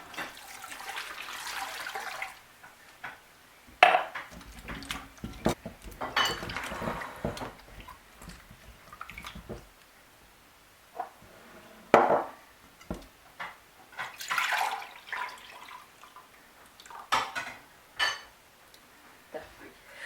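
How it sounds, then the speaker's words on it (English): Peeled cocoyams are washed by hand in a bowl of water, with splashing bursts, swishing, and occasional clinks against the bowl, separated by quieter pauses. "Continue and peel all your cocoyams. Wash your cocoyams."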